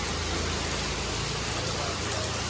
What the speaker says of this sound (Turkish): Şırıl şırıl yağıyor.